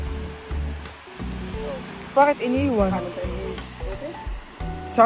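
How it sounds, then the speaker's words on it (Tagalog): Strong sea waves on a Bicol shoreline crash and rush in a steady broadband roar, with people talking over the surf. "Ang alon, sobrang lakas."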